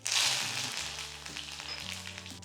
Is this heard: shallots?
yes